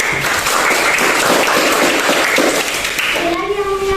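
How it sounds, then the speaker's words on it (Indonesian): Classroom applause during a teaching-practice lesson, a few seconds of loud clapping from students, with voices mixed in and a brief tonal sound at the end. "Terima kasih, berikan tepuk tangan."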